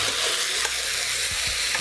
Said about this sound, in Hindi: बस थोड़ी देर इसको कम से कम 3-4 मिनट भून लेंगे ऐसे ही